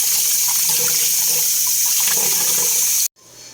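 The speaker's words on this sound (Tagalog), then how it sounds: "Hugasan ko lang siya ng maigi." Beef innards being washed under a running tap, a loud, steady rush of water hitting the meat and sink that cuts off abruptly near the end, leaving faint room noise.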